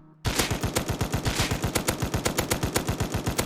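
An LR rifle in Rust fires a sustained automatic burst after a brief quiet moment, loud, close and evenly rhythmic from start to finish.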